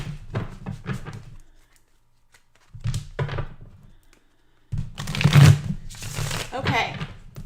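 Bursts of tarot cards being shuffled, a riffle, a pause, then a longer busier shuffle with soft thumps and handling noise.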